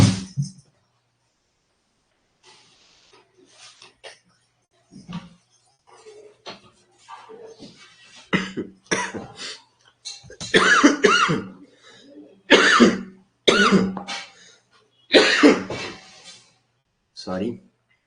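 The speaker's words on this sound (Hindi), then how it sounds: "कोल्ड बहुत हो चुका है। खांसी जुकाम बंद होने का नाम ही नहीं ले रहा है।" Repeated coughing and throat clearing from a person with a cold, several harsh bursts growing louder toward the end, with some quiet speech in between.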